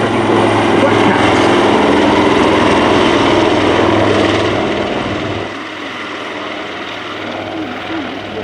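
A Royal Navy Leonardo Wildcat HMA.2 helicopter roars loudly overhead in a flying display at RIAT 2024, with a droning engine and rotor wash, then fades slightly as it moves away.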